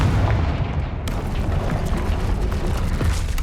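A Confringo fire spell blasts in Hogwarts Legacy, with debris from a troll's rampage around. Heavy booming bursts roll over dense rumble, and a sharp, loud impact lands about a second in and carries on in crackling reverberation.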